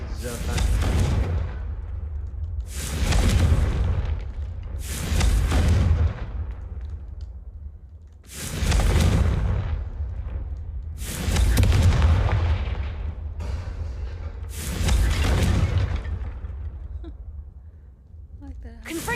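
Repeated Confringo explosion spells blast in Hogwarts Legacy, six loud booming bursts spaced a few seconds apart, each with a sharp onset and short decaying tail, while a voice calls out the spell.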